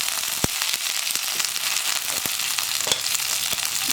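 Curry leaves and dried red chillies hitting hot oil with popping mustard seeds while making a beans and cabbage thoran: a loud, steady sizzle scattered with sharp crackles and pops, no voices.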